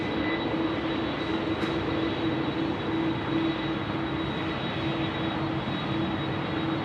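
A Qantas airliner taxis toward its bay at Sydney Airport in wet conditions, its jet engines giving a steady, loud, unbroken whine and roar throughout.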